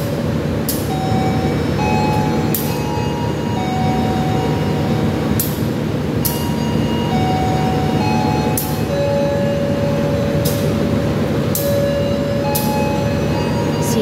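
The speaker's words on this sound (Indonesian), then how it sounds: "kereta api Joglo Semarketo mau diberangkatkan." Railway rumble and hum at an Indonesian station as the Joglosemarkerto train prepares to depart, loud and continuous, broken by sharp recurring clicks and intermittent tonal beeps or whistles.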